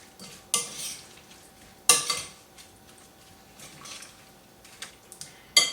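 A spoon mixes cucumber, radish and yogurt salad in a bowl, giving soft wet stirring with several sharp clinks against the bowl spaced a few seconds apart, close by and with no talking.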